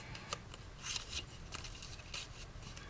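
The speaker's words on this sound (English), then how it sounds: "You're just going to round those off with your scissors." Scissors cutting paper to round off its corners, a run of close, soft snips and crisp paper rustles in uneven rhythm, with no talking.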